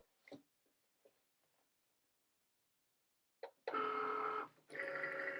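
A Cricut cutting machine loading a cutting mat: a few faint clicks and taps, then two short bursts of steady motor whirring as the rollers pull the mat in, close by in a quiet room.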